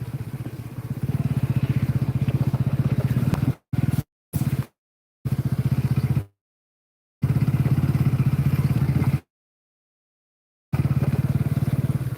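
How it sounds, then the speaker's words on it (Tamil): A motorcycle engine drones steadily and close while riding, cut by several abrupt silent gaps before the engine noise resumes; no talk is heard. "வண்டி போயிட்டுருக்கு"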